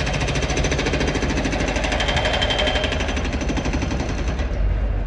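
Demolition machinery hammers concrete slabs at the Santiago Bernabéu stadium construction site, a rapid, continuous jackhammer-like rattle, loud and steady, with no voices.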